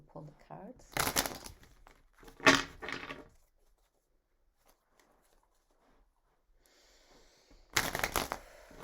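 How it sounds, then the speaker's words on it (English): A deck of tarot cards is shuffled close up in three quick riffling bursts separated by stretches of near silence, with faint handling noise between them. "I'll shuffle one more time and then I will pull the cards."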